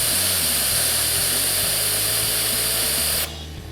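LEGO Tesla turbine spinning at maximum RPM, a loud steady high-pitched whirring whine, continuous and close, dropping sharply in the final half second.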